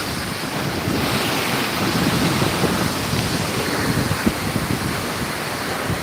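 Ocean surf at Gandhi Beach in Pondicherry rolls in as a steady, broad wash of breaking waves, mixed with heavy wind buffeting the microphone, continuous and loud with no voices.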